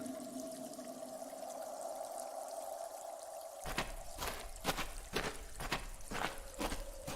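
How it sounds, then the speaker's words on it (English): Running water in a natural well in the adventure game Willy Morgan, a faint steady trickling flow that shifts into louder irregular splashing and dripping pulses partway through. "It's a natural well formed by the running water."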